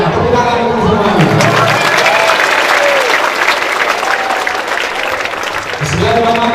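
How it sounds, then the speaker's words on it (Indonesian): Loud, sustained applause from a school crowd at a National Children's Day ceremony at SMK Negeri 1 Rembang Purbalingga fills the whole stretch, with voices speaking briefly at the start and again at the end. "Tepuk tangan untuk semuanya"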